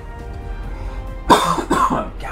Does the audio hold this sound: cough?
yes